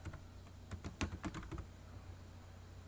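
Typing on a computer keyboard: a quick run of key clicks in the middle of the clip, close and clear over a faint steady room hum, with no talking.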